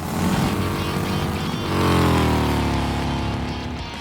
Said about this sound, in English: Alright, ladies, start your engines.